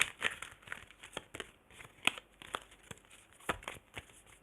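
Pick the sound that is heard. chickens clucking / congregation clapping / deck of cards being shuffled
deck of cards being shuffled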